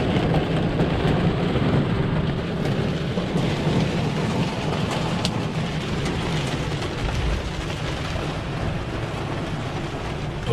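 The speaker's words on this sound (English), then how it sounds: "we got some pretty strong thunderstorms going through right now" Heavy rain pours steadily during a strong thunderstorm near an RV, with low rolling thunder rumbling underneath and occasional sharper drops or cracks over the constant downpour.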